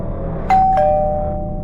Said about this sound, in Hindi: आगे बढ़कर डोरबेल बजाई।